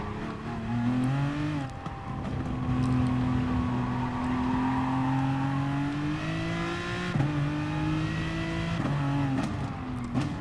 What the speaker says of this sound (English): I'm driving the Aston Martin, by the way, if you haven't figured that out